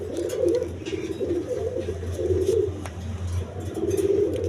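Pigeons kept in pairs for sale coo in low, throaty rolls, several birds calling over one another in a steady, close chorus with no voices.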